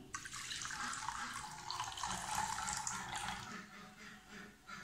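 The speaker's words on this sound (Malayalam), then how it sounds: "ഇനി നമ്മൾ ഇതിനകത്തോട്ട് ആവശ്യത്തിന് വെള്ളം ആഡ് ചെയ്ത് കൊടുക്കുകയാണ് ചെയ്യുന്നത്." Water is added to beet lemonade, giving a steady, moderately loud pour or splash that runs for most of the stretch and tails off near the end, with no talking over it.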